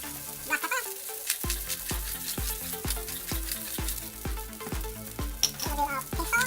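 Garlic fried rice with caramelized sugar and black pepper sizzles in a hot pan while a spatula strikes and tosses it in a fast, regular rhythm of sharp thuds, loud and close.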